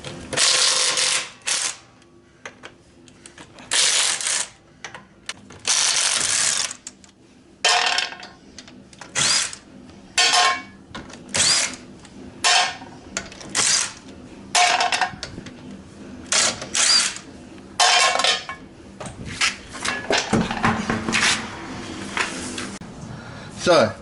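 Power tool removing the wheels of a Nissan Skyline R33 GTST, heard as repeated loud bursts of whirring and ratcheting separated by short pauses, close by, with some talking between bursts.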